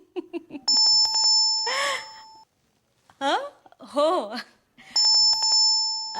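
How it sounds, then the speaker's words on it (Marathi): A doorbell chimes at home, a bright tone ringing at the start and again near the end, with a woman's sigh and brief speech in between. "जरा बेल वाजते, मी बघते"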